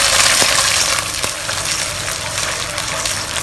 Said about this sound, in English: We'll add in a 1/4 cup of water.